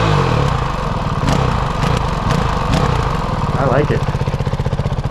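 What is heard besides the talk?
Honda CRF 450 RL dirt bike engine running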